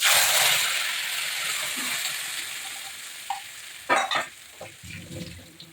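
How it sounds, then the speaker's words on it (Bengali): Cumin and a spice paste fry in hot oil with a loud hiss that rises at the start and then eases to a softer sizzle. Later a few sharp stirring scrapes and clatters break in, with no voices heard. "জিরেটা একটু ভাজা হতে হতে আমি এখানে যে পেস্ট করে রেখেছিলাম, এই পেস্টটাও ঢেলে দিচ্ছি।"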